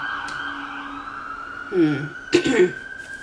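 An emergency vehicle siren wails steadily outside, a sustained tone heard at moderate distance through an indoor space, with brief voice-like sounds and a cough breaking in near the end.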